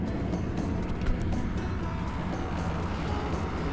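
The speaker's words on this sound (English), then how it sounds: "AC's loud." A loud air conditioner running in a basic hotel room, a steady broadband hum and rush with a low rumble, continuous throughout with a faint bump partway and no talking.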